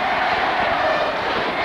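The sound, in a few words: UST basketball crowd cheering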